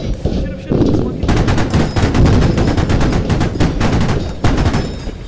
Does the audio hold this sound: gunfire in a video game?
yes